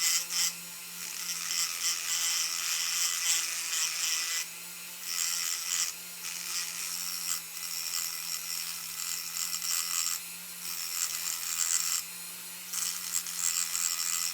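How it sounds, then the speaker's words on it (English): A rotary tool grinds plastic diffusers off the underside of a Hot Wheels Plymouth Cuda endurance racer, a steady high whine with a low motor hum, pausing briefly a few times before resuming. "Thought I'd grind off the majority of that just to kind of speed things along here."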